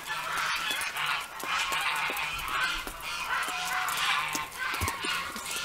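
A flock of geese honks loudly and continuously nearby, many overlapping calls with brief pauses, over a low rumbling background.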